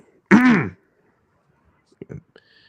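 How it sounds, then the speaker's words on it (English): A single short, raspy throat clearing from a scratchy throat sounds up close, followed by quiet and a few faint soft noises. "Sorry if I keep coughing a lot, though."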